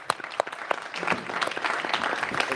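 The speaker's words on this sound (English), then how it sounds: "a big round of applause for our panel" An audience gives a panel a round of applause at the close of a day at a development conference, a dense steady clapping that grows fuller and louder over a couple of seconds.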